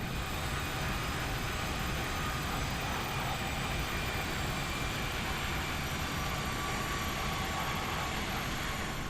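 Airbus A319 jet engines in the flight simulator X-Plane 11, a constant broadband roar and hiss at steady level, with no voices.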